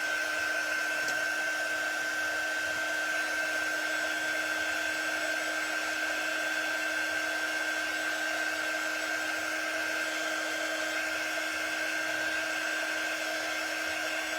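A hair dryer blows steadily at a craft project, a constant whine with a fixed tonal hum, close and unbroken for the whole stretch, with no talking.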